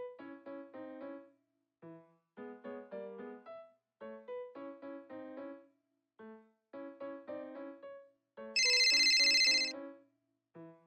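A melodic phone ringtone plays in repeated short bursts with brief pauses, followed by a loud, shrill electronic ring near the end.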